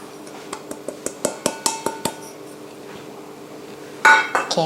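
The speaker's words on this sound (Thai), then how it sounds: "เริ่มกันที่แป้งข้าวเหนียวเลยค่ะ ใส่ลงในอ่างผสมแบบนี้นะคะ" Glutinous rice flour going into a mixing bowl, heard as a rhythmic run of close, bright metallic clinks of a utensil against the bowl, then a brief louder clatter after a pause.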